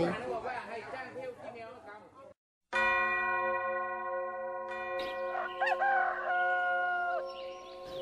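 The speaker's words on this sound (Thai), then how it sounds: "ก่อนฟ้าสาง เสียงระฆังจากวัดต่างๆ ดังเกิดก้อง" Voices murmur at first, then a large temple bell rings before dawn with long sustained overtones that linger, while a rooster crows partway through, in Mae Sariang, Thailand.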